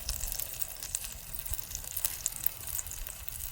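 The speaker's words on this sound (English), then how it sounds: "Listen to the sizzle." Steady crackling sizzle of chimichurri chicken cooking on a wood-fire Santa Maria grill, continuous and close, with soft pops scattered throughout and no voices.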